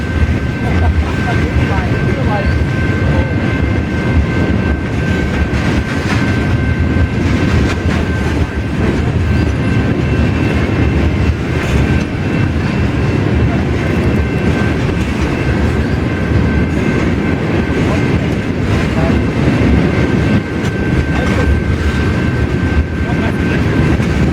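A freight train rolls past a road crossing in Girard, Illinois, with a loud, continuous rumble and rhythmic wheel clatter close by, holding steady throughout.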